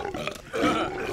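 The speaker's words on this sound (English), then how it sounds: "Now burp louder." A cartoon character lets out a loud, rumbling burp that swells and holds for about a second, thick and growly, with no talking over it.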